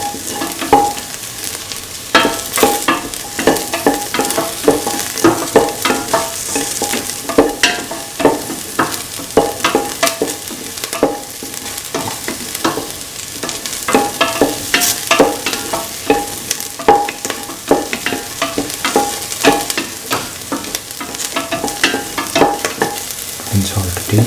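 Onions and shallots sizzle steadily in a pan while a spoon stirs them, with frequent scraping strokes against the pan over a constant frying hiss and no talking.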